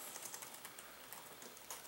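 Fingers typing on an HP EliteBook 840 laptop keyboard, a quick irregular patter of soft key clicks heard up close in a quiet room, with no voices.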